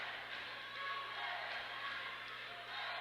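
Steady roar of a packed arena crowd at a women's college basketball championship game, a continuous wash of cheering and chatter with a gentle swell midway, mixed with broadcast talk.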